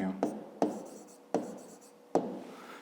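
A pen scratches across paper while measurements are noted in a fifth-grade maths exercise, giving four short, distinct strokes at irregular intervals, close and fairly quiet.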